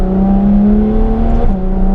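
A Ferrari F12 TDF V12 engine idles along at very light throttle, a loud, steady low mechanical drone with a sustained hum that dips slightly in pitch near the end, heard alone without talk.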